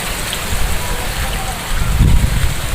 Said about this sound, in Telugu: లైట్గా వర్షం కూడా పడుతుంది సన్న తోర